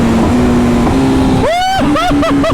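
A 2025 BMW S1000RR sport bike cruises loud and close, then rapidly blips its engine through a quick series of sharp rising-and-falling downshifts, each rev burst short and snappy with wind noise underneath.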